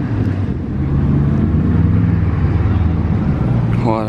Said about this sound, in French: Oh là là, ce vrombissement.